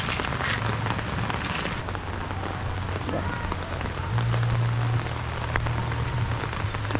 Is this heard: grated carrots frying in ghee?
no